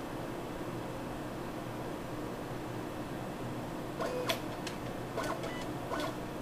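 A GC-MS autosampler rinses its syringe with dichloromethane in a laboratory: a few faint mechanical clicks and ticks over a steady instrument hum, with no talking.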